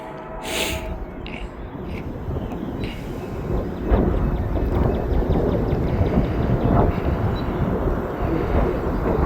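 A train rumbles past a railroad crossing with gates down, a steady loud rolling roar with rhythmic wheel clatter building in after a brief quieter start, with a faint breathy noise early on.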